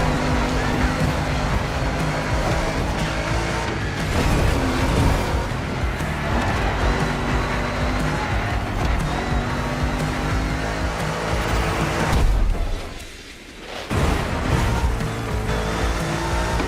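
A giant Mustang GT-based car races in a video game, its engine roaring loudly and continuously with tire squeal and skidding, then a brief dip to near silence before the engine noise returns.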